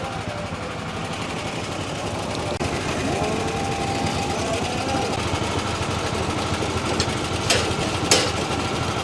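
Small engines idle steadily and loudly together while warming their oil in a shed, a continuous rough chugging drone with a few faint higher clinks near the end.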